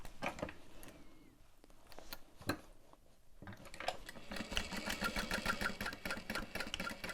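Domestic sewing machine back stitching on a fabric bag, a quiet mechanical whir broken by a brief pause, then resuming in a steady rapid needle rhythm.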